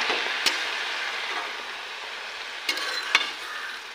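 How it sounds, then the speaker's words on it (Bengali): Turmeric and spices stirred in a sizzling frying pan while cooking radish and fenugreek greens, a steady close hiss with a few brief scraping knocks of the utensil, and no voices. "এবার এটাকে একটু নাড়িয়ে দেবো।"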